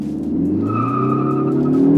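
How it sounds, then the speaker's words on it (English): Tires of a Mountune-tuned Ford Focus ST squeal steadily in third gear under hard acceleration on a track, a sustained high whine riding over the loud, continuous engine roar. "I got a little squeal in the third there"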